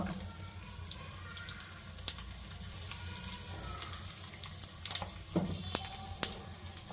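Spices such as chana dal, cumin and mustard seeds temper in hot oil for a cabbage peanut chutney, a continuous low sizzle with sharp intermittent pops and crackles that grow busier toward the end.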